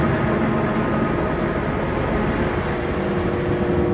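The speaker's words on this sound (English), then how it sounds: "train driver Vito slowly moves this magnificent train, formed of 4 carriages from the 1920s and 1 from the 1950s, onto platform 1" A vintage train of four 1920s carriages and one 1950s carriage moves slowly onto platform 1 at Sulmona, Italy. It makes a continuous close rumble and rolling noise with no voices.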